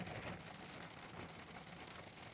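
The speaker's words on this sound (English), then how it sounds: "I'm sitting here listening to the rain on the roof of the adventure truck" Rain falling steadily on the roof of an adventure truck on a cool, damp morning, a soft continuous patter and hiss heard from inside, even and unbroken with no voices.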